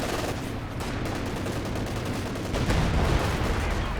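An M36 Jackson tank destroyer fires armor-piercing rounds in the game Company of Heroes 2, a steady crackle of gunfire and explosions with a louder burst near the end, dense and continuous without speech.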